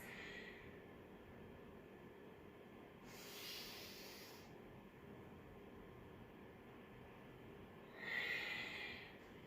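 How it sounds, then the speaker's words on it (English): Two deep breaths during a vinyasa yoga flow, each a soft, airy exhale about four seconds apart, close and quiet over a low background hum. "2 more big breaths"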